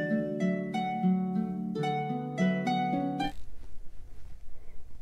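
A harp prop from a Medli Wind Waker cosplay plays a short melody of plucked, ringing notes that sound alone for about three seconds before fading into a faint, muffled background.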